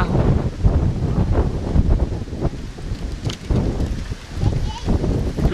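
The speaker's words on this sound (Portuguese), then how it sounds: "o dia hoje está ventando, esfriou bastante" Wind buffets the microphone in steady low rumbling gusts throughout on a cold day in rural coffee fields, with a few sharper bursts along the way.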